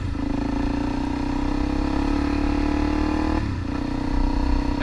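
A Suzuki DRZ400 dirt bike engine hums steadily while being ridden on a farm, holding a constant drone with a brief dip in revs before picking back up, close and fairly loud.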